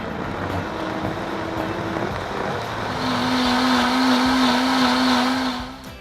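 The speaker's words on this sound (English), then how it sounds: "So we're going to start our blender." A blender blending soup whirs loudly and continuously close by, its motor pitch rising as it speeds up partway through.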